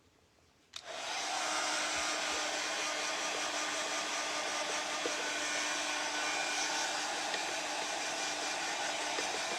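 A hair dryer switches on after a brief quiet moment and runs loud and steady, a continuous close-up whoosh with a faint hum, drying damp decoupage work with real twigs.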